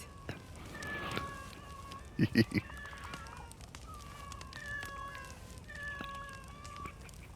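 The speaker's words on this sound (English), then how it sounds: "about 6 cats, maybe 7 cats over here" Several cats meowing in a cat garden in the video game Assassin's Creed Shadows, scattered short mews over faint ambient game sound, with a brief louder rustle or footstep burst midway.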